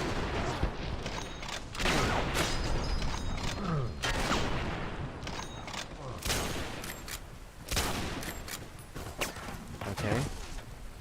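Gunfire in Fallout New Vegas, repeated loud bursts of shots and mechanical clatter across the whole stretch.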